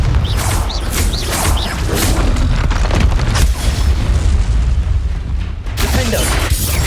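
Booming blasts and whooshes from the Confringo explosion spell in Hogwarts Legacy erupt repeatedly amid loud combat noise, with a voice casting the spell over the chaotic fight.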